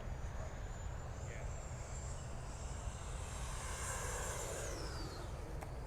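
A small 64mm electric ducted fan model jet whines overhead at an RC flying field, a steady high-pitched whine that rises and then falls as it passes, over constant background noise.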